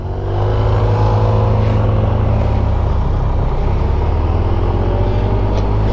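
A 1994 Honda Goldwing GL1500 motorcycle, leaking gas, runs smoothly while riding, a loud even engine drone with strong low rumble that builds in the first half second and then holds steady.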